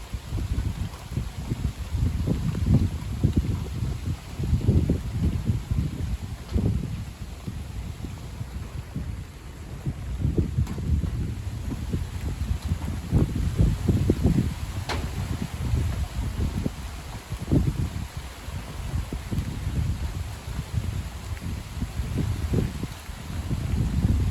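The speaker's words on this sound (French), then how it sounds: "Il y a 50 km/h de vent." Strong gusting wind of about 50 km/h blows during a squally shower, a steady low roar rising and falling in long gusts, with leaves rustling in it and no voices.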